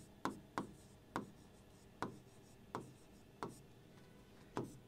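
Pen or pencil writing on paper during a maths lesson, a run of sharp, close strokes with faint scratchy tails, spaced irregularly about every half second in a quiet room.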